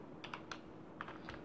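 Typing on a computer keyboard, a handful of quiet, separate key clicks in an irregular rhythm with soft room noise between them.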